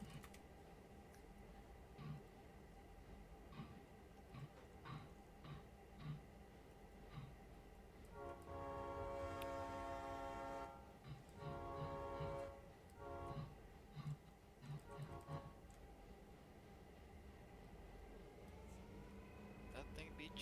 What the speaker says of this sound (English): That thing be chuffing along